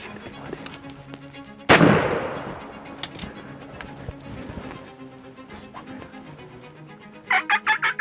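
A single loud, close gunshot cracks out during a spring turkey hunt in Ontario, followed by quieter background sounds and a burst of turkey gobbling near the end.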